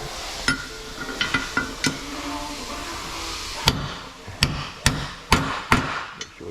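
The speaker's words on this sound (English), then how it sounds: "We'll get our hammer." Hammer taps driving a lip-type oil seal into a Detroit 12V-71 water pump housing: several sharp metallic strikes, first in quick bunches and then in a steadier, louder run of single blows, close by in a workshop.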